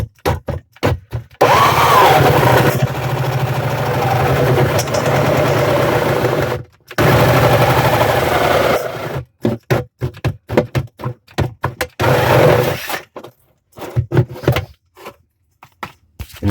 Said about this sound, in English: we're going to drill the inlet